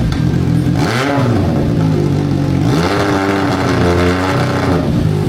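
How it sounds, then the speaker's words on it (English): A CFMOTO 675SS motorcycle fitted with a slip-on exhaust revs loudly and close up, its engine pitch climbing and falling through two strong rev sweeps with a raspy, continuous drone and no talking. "I can play the sound clip one with the apparent slip-on"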